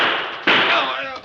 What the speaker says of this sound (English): accidentally discharged the gun in his hand